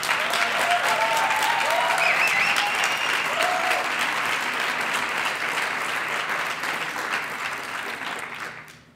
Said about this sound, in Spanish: Siempre que me aplauden en un sitio devuelvo el aplauso.